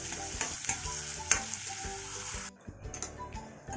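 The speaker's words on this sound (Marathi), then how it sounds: "छान परतवून घ्यायचे, कांदा हा थोडा मऊ होईल तो आपण शिजवून घेणार आहोत" Chopped onions sautéing in a pan for a chicken masala gravy, with a dense, continuous sizzle and scraping stir strokes that suddenly drop to a quieter crackle partway through, and no voices.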